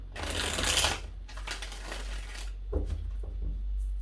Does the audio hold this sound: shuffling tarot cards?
yes